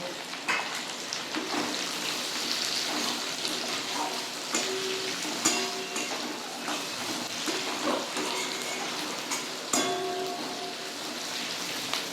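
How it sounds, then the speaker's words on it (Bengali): Onion and capsicum frying lightly in a pan, a quiet continuous crackling sizzle with scattered pops and a few stirring clicks, heard alone without talk. "পেঁয়াজ আর ক্যাপসিকামটা কিন্তু আমি হালকা করে ভাজব"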